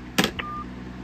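A desk phone on a FreePBX system gives a brief burst of dialing tones followed by a short single beep, close and clear.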